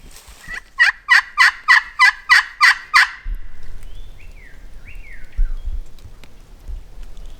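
A wild turkey on public land gobbles in a quick run of about eight rattling notes, clear but some distance off, followed by softer bird calls and low rumbling background noise.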